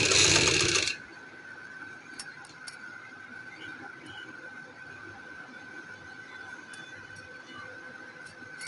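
A domestic sewing machine runs steadily while stitching a folded trouser hem, producing a continuous mechanical whir with faint clicks, after a loud brief burst at the start; no one speaks.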